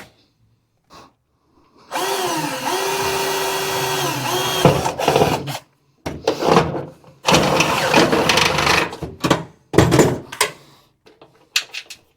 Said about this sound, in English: get out the drill, and get to drilling